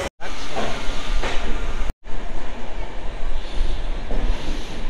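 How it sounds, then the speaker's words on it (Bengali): A train pulls into Kharagpur station on the Howrah to Puri run, rumbling and hissing loudly and continuously, cut by two brief drops to silence. "তো বন্ধুরা ফাইনালি কিন্তু খড়গপুর ঢুকে গেল আমাদের ট্রেন।"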